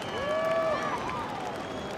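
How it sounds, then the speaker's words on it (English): Crowd cheering and whistling from a beach audience at the Margaret River Pro 2022 surf contest final, a steady roar with rising whistles, heard at a distance. "Crowd just going absolutely wild"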